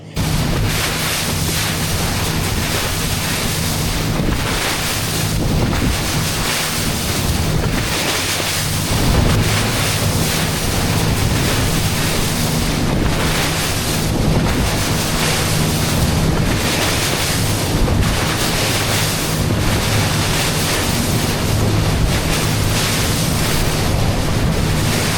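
Small powered tour boat riding ocean waves off the Scottish Highlands coast, a loud continuous rush of engine, water and heavy wind buffeting with rhythmic surges as the hull meets the swell.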